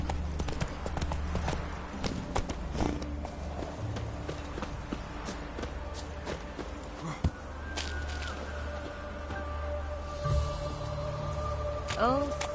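Roach, Geralt's horse in The Witcher 3, gallops with steady rhythmic hoofbeats close up over a low game ambience, joined by occasional clanks and a brief musical chime near the end.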